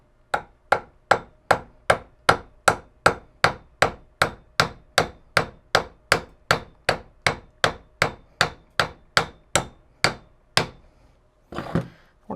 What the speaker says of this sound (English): And tap this cap back out just to be sure.